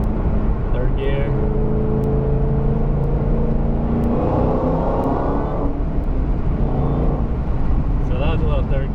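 A Shelby GT500 pulls hard in third gear through an underpass, its engine note rising and swelling steadily over a constant loud road and wind roar, heard from inside the car.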